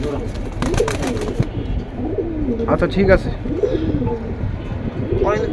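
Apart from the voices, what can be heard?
Pakistani high flyer pigeons cooing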